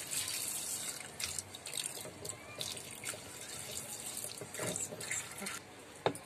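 Water splashes and runs into a pot of washed white peas, a continuous close splashing with small drips and bursts, with no one speaking.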